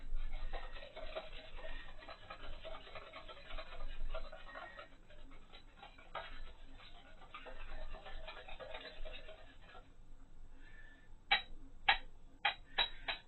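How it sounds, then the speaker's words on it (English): A sauce for broccoli chicken being whisked by hand: a soft, continuous swishing and scraping in the bowl, followed near the end by a few crisp ticks of the whisk against the rim, close and without talk. "just sit here and whisk all that up together"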